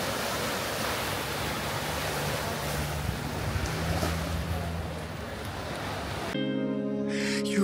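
Sea waves washing onto the shore at Koh Tao, Thailand, a steady broad rushing wash with wind buffeting the microphone, then music cuts in near the end.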